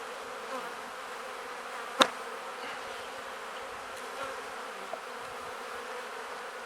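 Honey bees buzz steadily around spring beehives at the end of March, a soft continuous hum close by with one sharp brief tap partway through.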